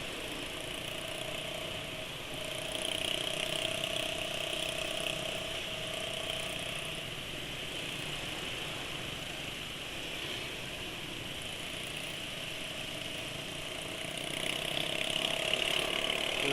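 A car engine idles steadily for the whole stretch, a smooth continuous hum with a faint high whine, swelling slightly near the end.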